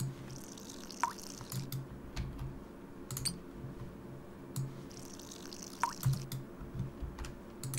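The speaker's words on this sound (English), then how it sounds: "it'll also make a dripping sound" Water dripping in a farming video game, quiet sparse droplet ticks scattered over a soft steady background hum, with a few sharper clicks recurring at irregular intervals.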